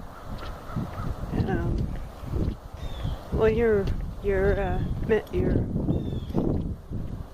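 Several honking, goose-like bird calls ring out in short bursts nearby, mixed with talking and rustling.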